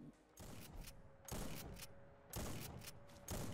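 Pump-action shotgun from a Fallout 4 weapon mod fires three loud, booming blasts about a second apart, each followed by a brief mechanical pump and settling tail.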